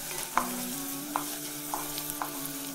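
Onions frying in a pan give a quiet, steady sizzle, broken by a few soft scrapes as they are stirred.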